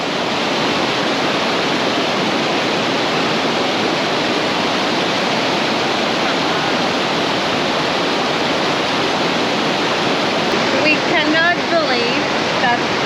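A loud, steady roar of falling water fills the scene throughout, broad and constant, with faint voices surfacing briefly near the end.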